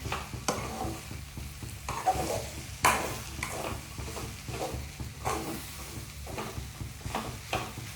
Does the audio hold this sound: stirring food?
yes